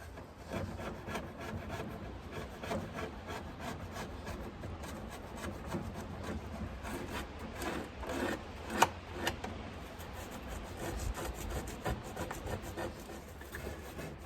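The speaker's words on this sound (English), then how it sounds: "I got my shim here that scrapes." A metal shim scraping caked dirt and gunk out of a Singer treadle sewing machine, producing continuous gritty rasping strokes up close, with a couple of sharper scrapes partway through.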